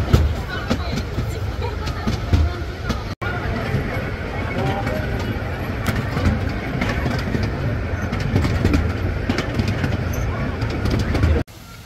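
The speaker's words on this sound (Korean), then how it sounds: "투어 열차를 타고 가도록 하겠습니다." A tour train on Nami Island in Gapyeong rolls along with a continuous low rumble and rattle of the cars, while a crowd of passengers chatter around it, loud and close throughout.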